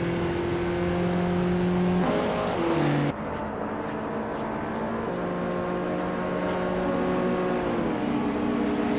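A 1985 Lancia Delta S4 Stradale races in a video game, its engine droning continuously with sharp gear-change drops and steady high-pitched whine, no voices over it.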